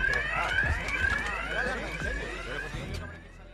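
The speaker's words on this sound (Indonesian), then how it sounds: "daya berlebih dari alat itu memicu sensor alarm kebakaran" A fire alarm inside a bank, set off by an overloaded device, blares rising, repeating electronic tones at close range, with a voice talking over it.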